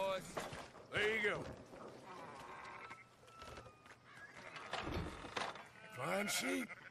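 Sheep bleating in the video game Red Dead Redemption II, several wavering bleats from nearby animals, some overlapping, mixed with a voice and shuffling farmyard activity.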